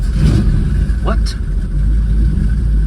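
A Jensen Healey V8 runs close by with a steady low engine rumble, and a brief voice exclaims over it partway through.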